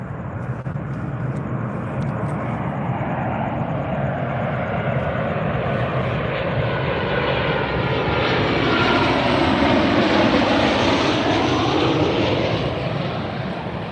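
A Southwest airliner arriving from Long Beach at Las Vegas airport roars with a loud, sustained jet engine rumble that swells and sweeps past at close range, with no talk.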